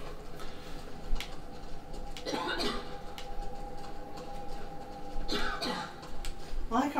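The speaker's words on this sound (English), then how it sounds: "I like how our coughing is like almost" People coughing during a video game session, two clusters of short harsh coughs a few seconds apart, fairly close, over a faint steady background with scattered clicks.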